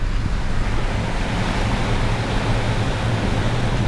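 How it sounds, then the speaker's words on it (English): A Hummer EV, rated for water fording up to 32 inches, pushes through a flooded closed road, making a dense, unbroken rush of churning water and wind noise, loud and close, with no talking. "So we found a road closed that's flooded through, which is perfect for the Hummer EV."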